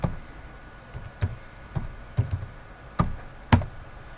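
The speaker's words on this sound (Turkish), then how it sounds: "tekrar yazayım adresimi" An address being typed on a computer keyboard: a handful of sparse, separate key taps spaced irregularly, close and fairly quiet against a faint room hum, with no talk.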